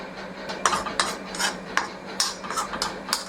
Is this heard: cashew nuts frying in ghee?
yes